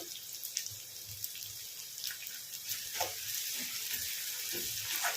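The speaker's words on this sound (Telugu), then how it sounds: "చూడండి, ఉల్లిపాయలు అయితే వేగుతున్నాయి కదా." Sliced onions fry with mint in a pan for a village-style boti curry, giving a steady soft sizzle with occasional stirring clinks close by.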